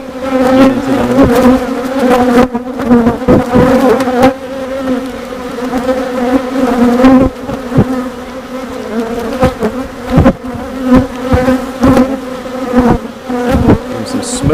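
Dense, steady droning hum of many honeybees at an open beehive, loud and close throughout, with occasional brief knocks and rustles from working the boxes.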